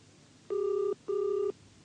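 A telephone rings indoors in two even electronic bursts, a steady near tone with a short gap between, over quiet room hiss.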